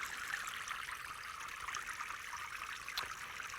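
Water trickles steadily in a small garden water feature, a continuous close bright babble with no voices, holding an even level throughout.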